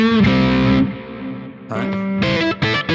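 A distorted electric guitar plays a short blues-note lick in the Dorian mode with chorus-like effects, sustained notes followed by quick bent and picked phrases, loud and close with no voices.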